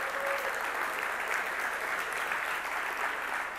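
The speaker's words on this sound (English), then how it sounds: "that's my first ever slow clap." Audience at a business talk applauds in a dense, steady wash of clapping that holds at an even, fairly soft level for several seconds without talk over it.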